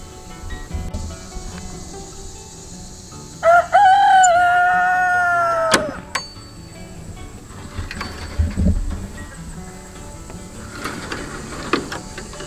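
A rooster crows once, a long rising-and-falling call, amid a homestead farmyard backdrop of hens clucking and insects buzzing, with scattered knocks and rustles.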